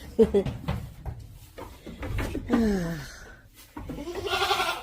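Goats bleat from their pen in several wavering calls, one loud and close, with a person talking nearby during feeding time.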